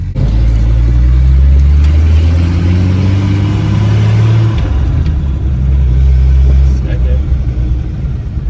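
A car driven off on a rebuilt manual transmission fitted with a short throw shifter, its engine revving up and down through gear changes close to the cabin, with a voice talking over it.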